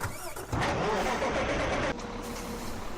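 A triaxle truck engine in Farming Simulator 17 rumbles into a loud, broad roar after a brief quieter start, then drops to a steadier lower drone.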